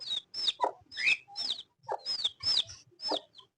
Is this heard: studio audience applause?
no